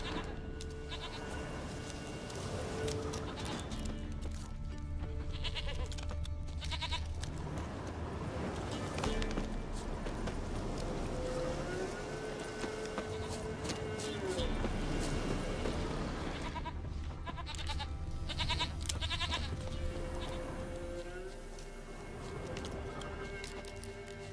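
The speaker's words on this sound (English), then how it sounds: "Here, goat." Goat bleats in The Witcher 3: Wild Hunt, rising over a dense, continuous game soundscape with music and ambient noise, the calls drawn out and moderately loud amid the mix.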